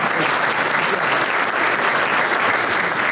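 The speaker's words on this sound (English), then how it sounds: "how about a round of applause for the new president here on his first event?" Full, continuous round of applause from a breakfast forum audience welcoming a new president, steady and close with no speech over it.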